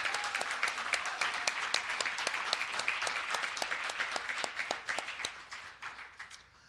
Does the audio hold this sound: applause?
yes